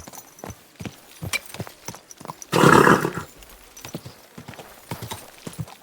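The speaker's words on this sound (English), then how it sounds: "Easy, good horse." A horse's hooves clip-clop in a steady walking rhythm in the video game Kingdom Come: Deliverance II, broken midway by a loud whinny.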